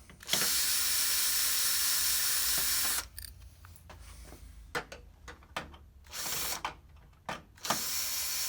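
A power screwdriver removes the three screws from the top cover of a Toshiba eStudio 55 copier: one long whirring run, then several short, sharp bursts and clicks, close and loud.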